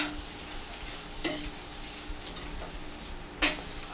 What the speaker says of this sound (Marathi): गॅसची फ्लेम फास्ट करायची आहे आणि हे असं परतून घ्यायचं आहे